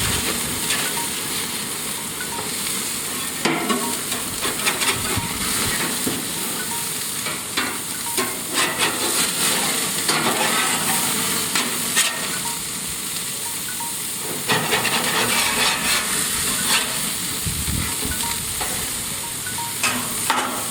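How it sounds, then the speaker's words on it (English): Burgers on a grill give a steady, loud sizzle with intermittent scraping and spatula clatter as they are flipped. "I'm going to do something different right now, is to flip my burgers"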